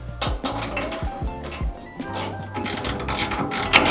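A ratchet loosening small bolts on the side panel of a Kubota B1600 tractor gives quick runs of sharp mechanical clicks, close and fairly loud, with brief pauses between strokes.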